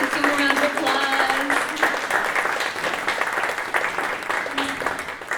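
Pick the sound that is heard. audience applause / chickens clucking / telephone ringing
audience applause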